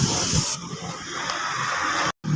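Spray gun misting pearl white paint onto motorcycle bodywork, a steady close hiss that runs nearly the whole time, breaking off briefly near the end before resuming.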